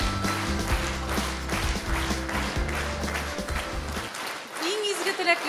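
A concert audience at a jubilee concert applauds steadily over loud music. The music drops away near the end, leaving the clapping with a voice over it.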